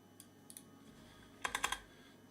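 Quick bursts of typing on a computer keyboard, a few isolated key taps followed by a rapid run of four or five clicks, close and fairly quiet with no talking.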